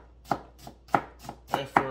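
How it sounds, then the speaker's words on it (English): A sharp knife chops through food on a cutting board during cooking of a Jamaican chicken soup, six crisp, close knocks at a loose, unhurried rhythm with quiet gaps between. "make sure you always work with a sharp knife"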